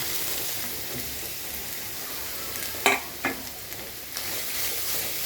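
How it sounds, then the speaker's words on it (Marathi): Grated vegetable sizzles steadily in ghee, a broad continuous frying hiss with a few sharp scraping stir strokes near the middle and a faint one later; no one speaks. "याच्यामध्ये तूप टाकलं आणि किसलेलं कांदा टाकूया"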